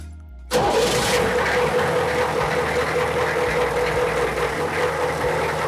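Military vehicle engine cranking and catching around half a second in, then settling into a steady, loud, low rumbling idle that continues to the end with no talk.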